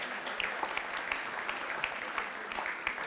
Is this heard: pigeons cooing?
no